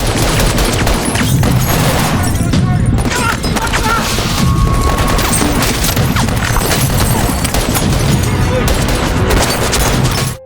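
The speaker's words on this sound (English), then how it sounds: "Soon, both sides engaged in a firefight, and Madison was taken away." Gunfire in a firefight in a post-apocalyptic drama scene: dense, continuous loud bursts and booms with crashes mixed in, filling the whole stretch with barely a pause.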